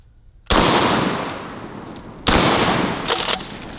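A DP-12 double-barrel pump shotgun fires at targets with two loud, sharp blasts about two seconds apart, each leaving a long decaying boom, followed by fainter clattering.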